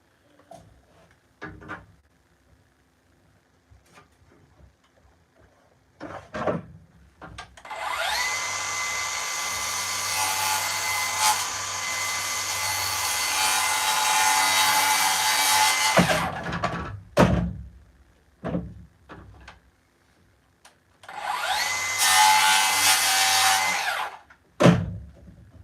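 A piece of lumber cut to length with a high-pitched power saw while walls are framed out, two loud whining runs of several seconds each, surrounded by clunks and handling knocks.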